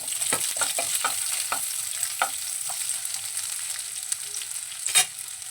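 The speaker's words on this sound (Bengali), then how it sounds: "দিয়ে দিচ্ছি 1 চামচ তেল, তার মধ্যে দিয়ে দিলাম দুটো কুচনো পেঁয়াজ" Two chopped onions frying in a spoonful of oil for a chicken kofta gravy, with a steady close sizzle broken by repeated scraping stir strokes and a sharper clack near the end.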